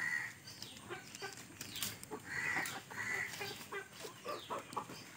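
Chickens cluck and call on a small low-budget poultry farm in Konkan, a flock of hens giving repeated short clucks and squawks, fairly quiet and close, with rustling in the background.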